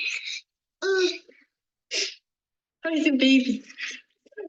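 A man sneezes in short, sharp bursts, followed by a young twin's imitating sneezes, separated by pauses, with people speaking in between.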